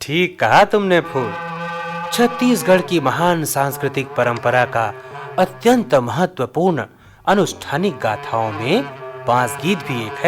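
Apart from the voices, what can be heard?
No everyday noise stands out behind the speech.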